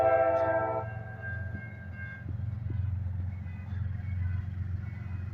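Freight train with three locomotives passing in McCormick, South Carolina, a steady low rumble of wheels and engines with a brief horn toot at the start, heard from nearby.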